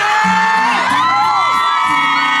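A crowd at an outdoor evening township festival in Linbian, Pingtung, cheers and shouts loudly to welcome a singer, with high whoops and yells sustained across the short burst.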